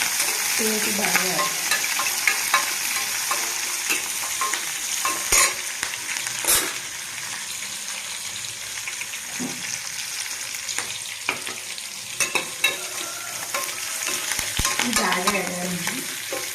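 Whole tempering spices crackle and sizzle loudly in hot oil for a raw banana fry, a continuous frying hiss broken by sharp pops and the scrape of a stirring spoon, with no talking.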